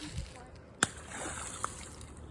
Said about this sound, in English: Wow, that splash was big.